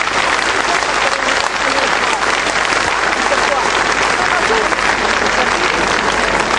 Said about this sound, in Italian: un applauso se lo merita tutto